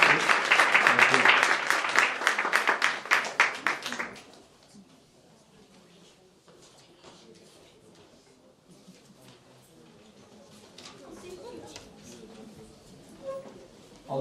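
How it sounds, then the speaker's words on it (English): Loud crowd applause follows Hindu temple services for about four seconds, then fades into a quiet hall with soft murmuring and a few voices. "Can we give them one more big round of applause for the services?"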